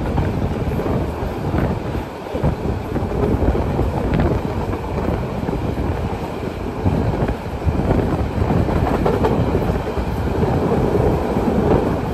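The Sagorika Express train rumbles steadily along the rails between Chandpur and Chattogram, a continuous loud roar with wind-like buffeting and no talking.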